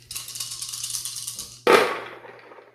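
Dice rattle and clatter in a quick burst during a board wargame turn, followed by a sharper clack as they land and scatter, close and fairly quiet.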